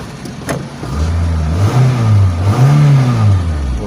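A car engine after a fuel pump replacement turns over, catches and revs, the close mid-pitched drone rising and falling in several smooth surges before settling back, loud and alone without talk.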